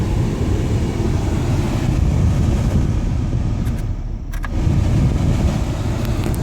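Cabin sound of a 2001 Jeep Grand Cherokee Laredo on a test drive: a steady, loud broadband road and engine rumble that dips briefly near the four-second mark before returning, with no talk.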